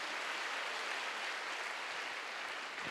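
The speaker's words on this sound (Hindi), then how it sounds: "ताली बजा के परमेश्वर के धन्यवाद करें" Congregation at a Christian convention session clapping together in thanks to God, a dense, even wash of many hands applauding without pause, steady and sustained across the whole stretch.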